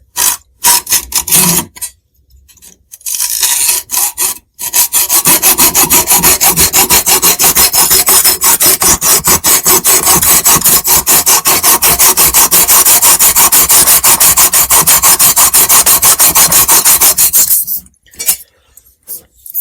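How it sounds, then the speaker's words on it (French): A metal hacksaw cuts a slot into the centre of a damaged screw head, giving steady rapid back-and-forth rasping strokes that run loud and continuous for most of the stretch after a few short starts. "je commence avec ma scie à métaux"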